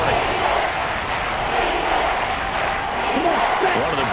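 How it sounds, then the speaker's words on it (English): A football stadium crowd cheers ahead of a big third down, a loud continuous roar of massed voices with scattered shouts rising and falling, and no distinct speech over it. "The crowd getting into it as we come up on a big 3rd down."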